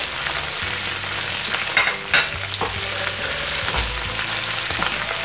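Dried chepa shutki fish fries with onion, chili and garlic for a bhorta. A loud, steady sizzle runs throughout, broken by several scraping stirs and a couple of clattering spatula knocks.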